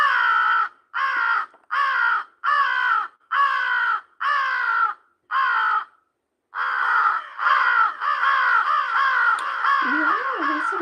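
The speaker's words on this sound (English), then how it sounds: "This is the crow, the American crow." An American crow caws loudly and close in a steady series of harsh, evenly spaced calls. After a short pause they run together into a denser volley.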